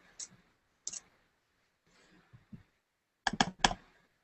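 Mouse clicks at a computer during web design work: sharp, crisp clicks, two single ones early, then a quick burst of three near the end, with faint background rustle between.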